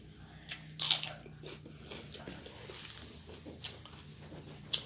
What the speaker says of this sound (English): I'm going to take a bite of that celery stick